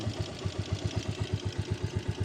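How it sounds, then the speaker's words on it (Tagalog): A motorcycle engine chugs in a steady, evenly pulsing rhythm on a muddy rice paddy path. It is fairly near and moderately quiet, with the repeated thumps running alone without any talk. "ito yung motor natin"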